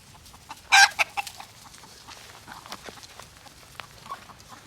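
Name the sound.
chicken clucking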